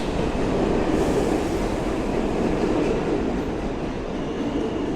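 A New York subway train rumbles loudly and steadily with a dense roar of wheels and rails, a constant close-up noise without talk.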